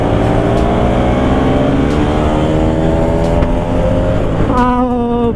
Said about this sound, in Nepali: दाइको बाइक अलिकति पावर कम भएको छ